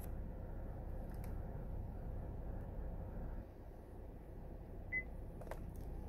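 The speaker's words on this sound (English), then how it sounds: "You heard a little beep, and there it is." One short, high electronic beep from a 2015 Cadillac SRX during an oil life reset sounds near the end over a low, steady hum.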